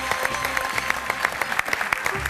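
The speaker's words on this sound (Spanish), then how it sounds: "El aplauso para el cantante." A television studio audience applauds for a singer, clapping steadily and fairly loudly for a couple of seconds.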